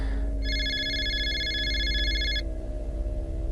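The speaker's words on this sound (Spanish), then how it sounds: "Sonó el teléfono." A telephone rings once in a quiet hotel setting, a bright electronic trill lasting about two seconds over a low steady hum, close and clear with no talk.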